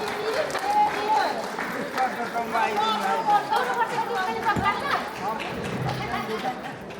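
Audience at a Kirat Rai community gathering in the UK claps in honor of senior citizens, a busy rattle of hands mixed with loud crowd chatter throughout.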